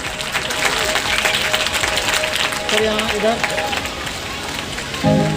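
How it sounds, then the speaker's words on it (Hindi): Loud audience applause at a government railway project inauguration event, a dense continuous clapping roar mixed with crowd murmur and a faint tonal hum, sustained throughout. "जोरदार तालियां बजती रहनी चाहिए।"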